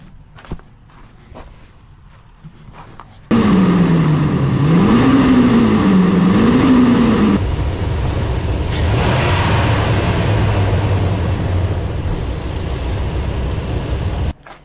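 A Ram 2500 truck with a 6.4 Hemi engine and a newly replaced fan clutch starts after a few quiet clicks, with a loud whirring crank and catch. It then settles into a steady, loud idle whose pitch rises and dips before evening out.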